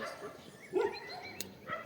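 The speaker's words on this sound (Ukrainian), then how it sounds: "А вони щось і гавкають, щось десь почули." Dogs bark faintly in the distance outdoors in a rural yard, a short yip or two amid quiet background.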